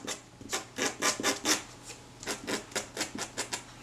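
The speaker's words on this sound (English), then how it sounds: "I'm going to scrape off all the lumps and bumps." Dried adhesive is scraped off old leatherette on a vintage Retina IIIc camera in a run of about fourteen short rasping strokes, each a close, gritty scrape in a steady back-and-forth rhythm, with no talk.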